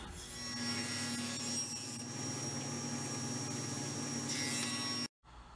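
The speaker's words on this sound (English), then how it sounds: "Now what I'm gonna do is edge slice strips out of these pieces." Thin edge strips are sliced from a block of mahogany for veneer, a continuous close rasping saw cut under a faint mains hum that stops abruptly near the end.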